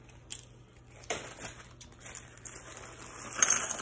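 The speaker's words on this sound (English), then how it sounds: "now that we have our glass in here, let's add our shells" Sea shells drop into a rock tumbler barrel already holding glass, making faint scattered clicks and a couple of brighter clattering crunches as pieces land and knock together.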